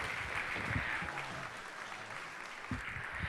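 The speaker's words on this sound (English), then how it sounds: "Let's give a round of applause." Audience applause for a beatboxer being welcomed onstage at a 1 Million Cups startup event in Fargo, a steady wash of clapping from a room of people lasting a few seconds, with a few cheers near the end.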